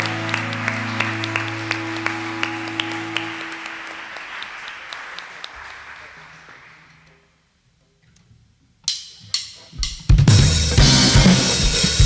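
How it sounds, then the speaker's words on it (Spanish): A church congregation at a Sunday service applauds under sustained organ or keyboard chords, with regular clap accents early on; the sound fades to near silence, then a burst of sharp hits leads into louder, dense clapping near the end. "¿Por qué no le da un fuerte aplauso al Señor?"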